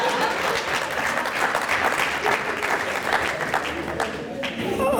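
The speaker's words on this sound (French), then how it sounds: "applaudissez pour mon cousin Kamnem qui vient d'avoir son bachelor" An audience breaks into loud, sustained applause, many hands clapping in a thick continuous wash close by, with a few voices mixing in beneath it.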